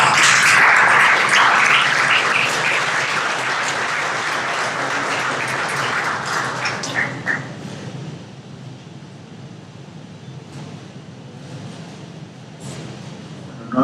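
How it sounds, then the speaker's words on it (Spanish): Conference audience breaks into warm, dense applause from many hands, loud at first and then gradually thinning into scattered claps and room noise over about fourteen seconds. "les pido a ustedes un caluroso y afectuoso aplauso a Raciel"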